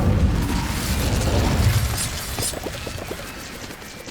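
The Incendio fire spell cast in a Harry Potter video game, a dense whooshing, crackling burst that stays loud and rumbling throughout, with no talking over it.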